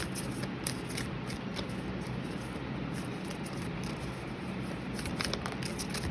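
Tarot cards being shuffled by hand, a steady close riffling and sliding of card stock with brief sharper flicks, continuous and fairly even throughout with no talking.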